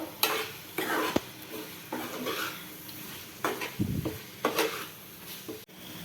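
Boneless chicken pieces frying in masala in a pan, a spoon stirring and scraping with repeated knocks against the metal over a low sizzle, close by.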